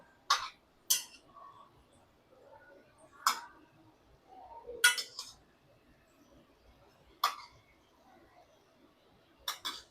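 Samosas turned over in a pan while frying on a very low flame, giving a handful of sharp clinks and scrapes spaced a few seconds apart over a faint, steady background.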